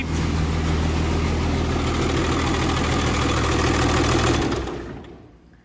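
A Cummins diesel swapped into a Mack A40 truck idles with a loud, steady, close low rumble that has a rhythmic knock. It then shuts off and fades out over the final second.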